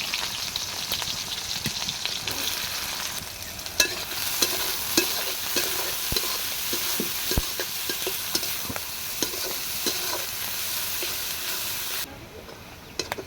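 Onions fry in mustard oil with a loud, steady sizzle, with small scraping and stirring clicks close by. The hiss drops quieter near the end.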